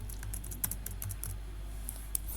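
Quiet, irregular clicks of fingers typing on a computer keyboard while HTML code is written, a few sharper keystrokes standing out over a low steady hum.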